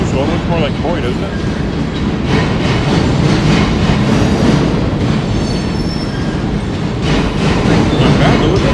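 Trains roll past on a nearby track, a loud continuous rumble with wheel squeal and clatter running for the whole stretch while people talk over it.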